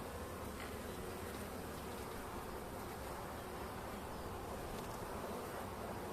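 Anatolian honeybees at an open hive in winter emergence, a dense steady buzzing swarm held close and even throughout, with no voices.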